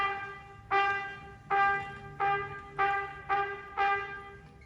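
Trumpet played with single tonguing, each note struck with the tongue staying down: six separate sustained brassy notes with sharp attacks, evenly spaced about every 0.6 seconds, heard alone with no talking.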